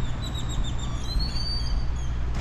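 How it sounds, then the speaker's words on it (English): Faint high chirps from a bird repeat over a low steady background hum at a remote lodge in Colombia, distant and sparse. "The birds are chirping."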